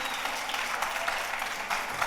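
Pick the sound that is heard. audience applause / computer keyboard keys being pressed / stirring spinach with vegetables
audience applause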